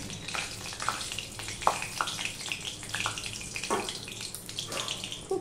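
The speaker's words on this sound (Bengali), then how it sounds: "খুব তেল ছিটছে।" Hot oil spatters and crackles in a pan for Katla fish curry, with cardamom and cinnamon in it, giving a steady broad hiss broken by sharp, close pops.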